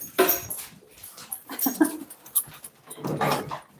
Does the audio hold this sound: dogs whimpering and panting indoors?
yes